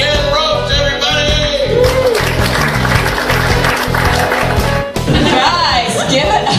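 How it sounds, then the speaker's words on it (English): A crowd applauds and cheers loudly for comedian Ken Roche, a dense sustained roar of clapping while an announcer's amplified voice speaks over it, with a brief dip near the middle. "please give a huge round of applause for Mr. Ken Roche, everybody!"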